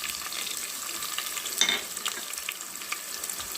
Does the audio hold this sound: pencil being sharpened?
no